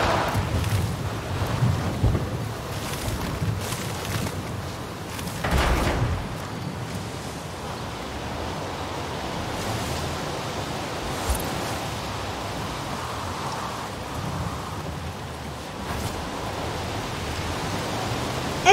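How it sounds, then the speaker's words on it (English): Rain and rolling thunder in the Forza Horizon 5 racing game, a continuous wash of rainfall with low thunder rumbles early on, steady and fairly loud with no voices. "It's raining."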